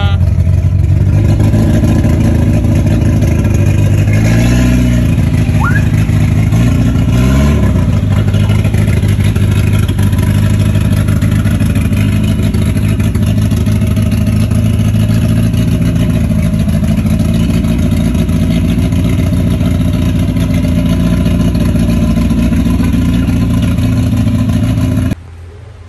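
A Volkswagen Passat with a V6 biturbo engine runs under way with a steady, loud, close mechanical drone, a couple of brief rev swells early on, then continuous cruising rumble until it cuts off abruptly at the end.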